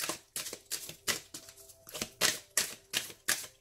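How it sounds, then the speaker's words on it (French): Tarot cards are shuffled by hand in a quick, regular series of crisp riffling bursts, about nine in a row, close and clear with no talking. "Donc on mélange."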